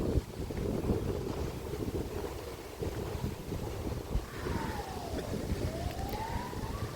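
Steady wind rumble buffets the microphone throughout in Kharkiv, Ukraine, with a siren rising and falling faintly in the distance.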